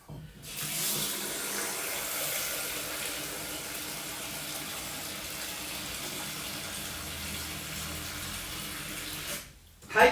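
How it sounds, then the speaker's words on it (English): Tap water gushes steadily into a pot of drained, soaked beans for chili, a loud continuous rush for nearly ten seconds that ends abruptly with a short clunk. "I'm gonna add 8 cups of fresh clean water"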